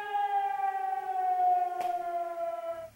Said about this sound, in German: Jetzt ist die Sirene aus